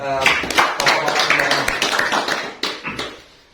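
An audience at a business seminar claps briefly, scattered hand claps mixed in with someone speaking loudly over them, the sound fading out toward the end.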